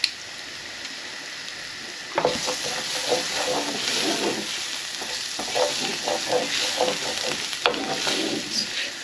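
Tomato puree cooking in a hot pan for a cheesy pasta bake, a constant sizzle that jumps louder as it hits, followed by bursts of stirring and scraping, close and alone.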